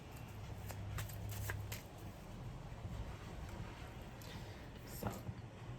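A Samhain oracle card deck is riffled and shuffled in brisk bursts of papery flutter and snapping, close up, against quiet room noise with faint background murmur.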